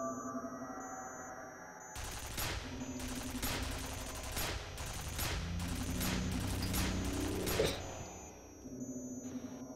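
A turret grinds and rattles as it turns in a video game, sounding as a string of loud, rapid mechanical bursts that start suddenly after a quiet lead-in and then fade out.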